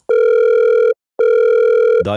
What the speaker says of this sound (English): Another really cool element of this track is this phone sample.